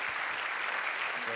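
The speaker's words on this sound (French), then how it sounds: "On peut applaudir." An audience at a conference claps in a dense, steady burst of applause, many hands together, loud and even throughout.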